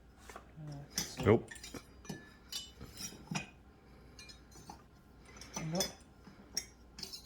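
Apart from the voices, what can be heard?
bread knife being fitted into a new kitchen knife block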